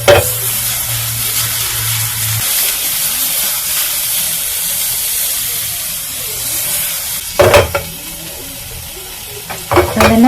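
Oil sizzling loudly in a greased pan for vegetable toast, a continuous close hiss with a few sharper crackles and scrapes near the end.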